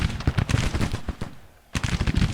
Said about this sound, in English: The 2nd West Virginia Artillery should be able to deliver some fire.